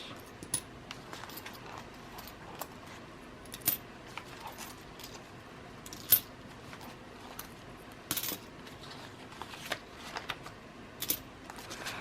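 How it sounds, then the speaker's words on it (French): Coins and banknotes being sorted into budget envelopes, with small sharp clinks and papery rustles scattered irregularly throughout, close and fairly quiet, without talk. "Donc, je mets mes billets là. Et je mets mes pièces ici."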